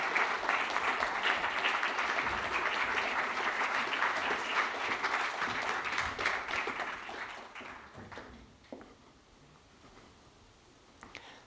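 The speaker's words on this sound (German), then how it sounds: "Kommt auf die Bühne, noch einmal einen Applaus für die beiden." Lecture-hall audience applauding as two mathematicians take the stage for a public talk on prime numbers, dense sustained clapping that fades out after about eight seconds, leaving scattered claps and room noise.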